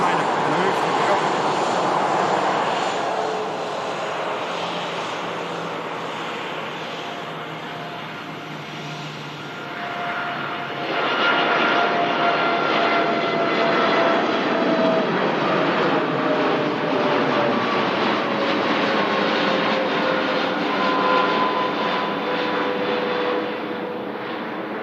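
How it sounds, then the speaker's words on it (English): A Boeing 787 Dreamliner moves at Manchester Airport in thick fog, its engines producing a sustained broadband roar with a rising whine that strengthens midway, moderately distant, while people talk over it. "Dreamliner, on the move, here we go."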